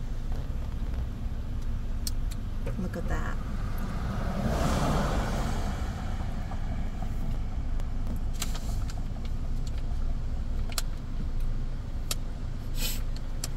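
Road traffic along the coast at Big Sur, California, near Bixby Bridge: cars hum steadily past close by, one louder pass swelling midway, with faint clicks and a brief spoken remark.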